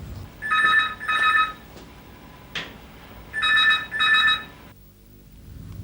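A telephone rings in two bursts of paired trilling rings, each burst about a second long, separated by a quiet gap and a couple of short clicks. No one speaks.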